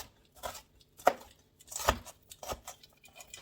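A knife chopping already-sliced vegetables on a board during weeknight vegan meal prep, giving a handful of irregular close taps and thuds, some louder than others, with no talk.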